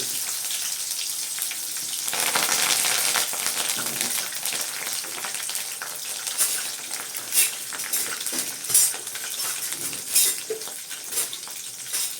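Onions, green chillies and curry leaves sauté in a pan for veg biryani, a steady close sizzle with bursts of stirring and metal utensil scrapes against the pan throughout.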